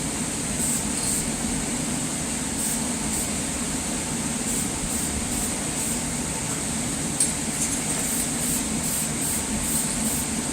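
Spray gun dusting a light coat of two-stage paint onto a Ford 302 engine block in a backyard, a steady continuous hiss with low rumbling air noise and faint periodic pulses, no talking.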